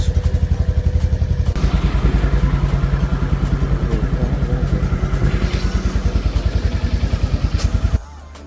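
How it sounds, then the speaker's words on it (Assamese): A motorbike engine, just started and warming up, idles close by with a steady, even chugging pulse for about eight seconds, then cuts to near quiet. "এতিয়া মই বাইক ষ্টাৰ্ট দিলোঁ। ৱাৰ্ম আপ হৈ আছে বাইকখন"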